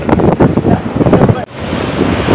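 Waves rolling in and strong wind buffeting the microphone at Cemara beach in Puger, Jember, at sunset, a loud continuous roar with gusty bursts and faint voices beneath.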